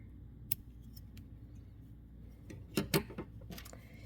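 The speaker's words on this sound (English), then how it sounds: "And then I'll just cut the rest of that yarn end." Scissors snip through a leftover yarn end on a crocheted granny square, a few quiet close cuts with one cluster of sharper clicks near the end, no talking.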